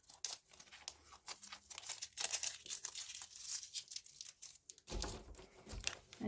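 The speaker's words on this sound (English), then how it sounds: "so I'll get this tape off." Tape peeled off fabric during an in-the-hoop embroidery project on a Babylock Solaris machine: soft, quiet crinkling and ripping bursts come in irregular spurts over several seconds, close by with no talking.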